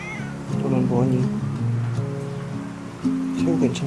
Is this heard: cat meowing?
yes